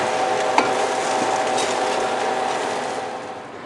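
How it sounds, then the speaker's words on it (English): Egg being stirred and mixed through hot fried rice in a pan, a steady close sizzle with soft scraping and one sharp utensil tap near the start, fading slightly toward the end. "We're going to take it and mix it through with the rest of the rice."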